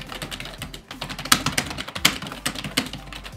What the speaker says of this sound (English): this keyboard isn't really my type because I don't really like the way it sounds